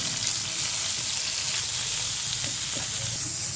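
Precooked beef masala fries in hot oil with onions, a loud, close, continuous sizzle with a few soft pops and stirring scrapes.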